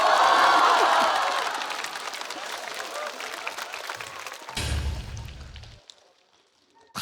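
A stand-up comedy audience bursts into loud applause that swells at first, thins out over several seconds, surges briefly again, then fades away almost to silence.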